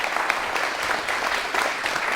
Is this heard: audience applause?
yes